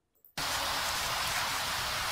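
After a brief quiet moment, heavy rain bursts in suddenly and continues as a dense, steady hiss, loud and unbroken.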